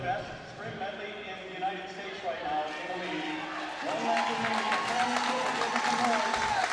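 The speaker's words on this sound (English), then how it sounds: "As you can hear the crowd, they're" Crowd at the Michigan indoor track and field state finals cheers a relay runner on the bell lap, roaring and clapping that grows louder midway and keeps building, heard under an announcer's steady commentary.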